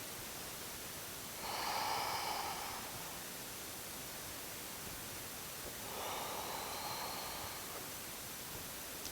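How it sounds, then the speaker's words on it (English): Two slow, deep breaths during a gentle yoga class, each a soft airy rush lasting a couple of seconds, heard close over a quiet hiss with a pause between them. "Take 3 more nice big breaths here"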